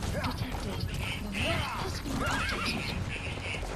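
A horse whinnies amid busy Metal Gear Solid V: The Phantom Pain game sounds, with hoofbeats, clattering impacts and voices layered over a dense background.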